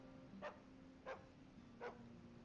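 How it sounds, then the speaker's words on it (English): Three short, clear dog barks from a dog in the video game Sand, evenly spaced about half a second apart over a steady low game hum, with no talking. "See? We pet dog."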